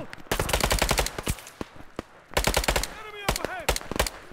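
Rapid WW2 rifle and machine-gun fire crackles in loud, dense bursts during a fight against insurgents in Operation Harsh Doorstop, with a short lull midway and a voice shouting over the shots.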